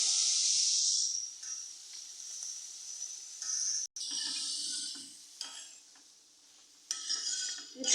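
Ridge gourd and potato pieces sauté in a pan, giving a soft, steady hiss and sizzle with occasional scrapes and stirring clatter. The sound is fairly faint throughout, with no talking.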